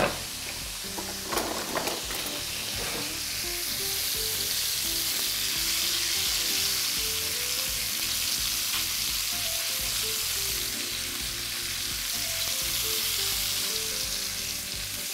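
Steady, dense sizzling of pork neck frying in a hot pan, with a few scraping stirs near the start, continuing loudly throughout without talk.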